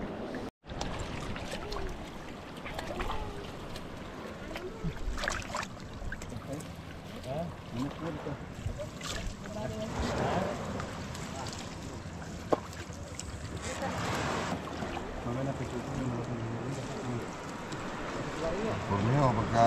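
A small boat, likely a bangka outrigger, moves on shallow water, its engine droning and water washing steadily throughout, with brief louder splashes and a sharp knock near the start.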